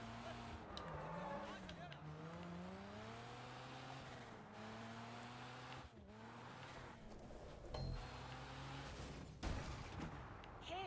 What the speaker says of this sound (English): Alright, now I got some car noise.